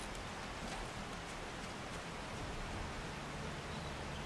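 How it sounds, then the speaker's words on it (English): Rain in the 7 Days to Die zombie survival game, a faint, even patter and hiss of falling drops continuing without pause. "I can hear rain."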